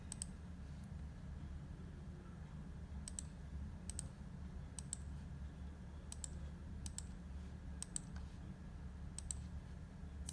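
Soft computer mouse clicks sound at scattered intervals while shapes are coloured in a paint program, faint and close over a steady low hum, with no talk.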